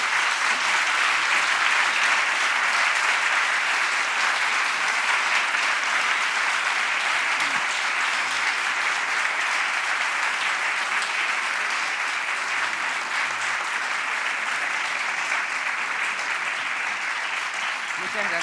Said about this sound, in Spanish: pensamos que a las 10:15 es una hora buena para darles un aplauso estupendo